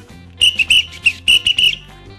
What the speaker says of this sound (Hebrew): משרוקית